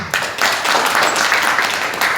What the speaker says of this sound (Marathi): परमेश्वराला आपण जोरदार टाळ्या वाजवूया.